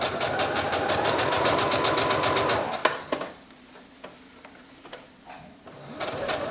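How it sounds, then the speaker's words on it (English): A sewing machine runs a steady, rapid chattering stitch while sewing a dress bodice lining to the seam allowance, then stops, leaving a few faint clicks and handling noises before it briefly starts up again. "I'm sewing my lining to the seam allowance"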